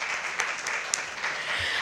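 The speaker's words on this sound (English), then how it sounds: "Can we please have a big round of applause?" Applause breaks out from the audience at a banking and finance summit session, a soft, even spread of clapping at a distance, fairly faint, with one sharper clap near the middle.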